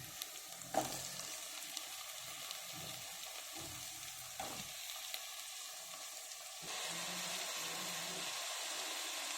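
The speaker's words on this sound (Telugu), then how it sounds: "ఈ కడిగి పెట్టుకున్న క్యాలిఫ్లవర్ ముక్కలు కూడా వేసేస్తాం" Cauliflower pieces fry in a hot pan for a Gobi cashew curry, giving a steady sizzle with occasional stirring clatter and a brighter, louder hiss in the last few seconds.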